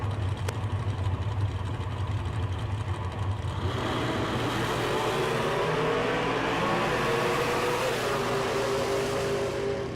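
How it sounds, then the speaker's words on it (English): A supercharged Chevrolet S10 extended cab at a drag race gives a loud, continuous engine roar that swells and climbs in pitch partway through. "Butler got that supercharged S10 extended cab out of Canada."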